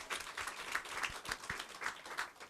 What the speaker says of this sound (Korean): 1섹션 사회화 발표를 맡아준 네 분 선생님께 다시 한번 박수 부탁드리겠습니다.